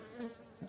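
A faint, close buzzing of honeybees from a weakened colony barely out of hibernation, a soft insect drone rising briefly twice over a quiet background.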